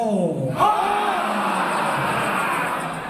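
A crowd at an organisation's meeting in Delhi roars loudly together, a sustained massed shout that follows a rising vocal whoop and holds at a steady, loud level.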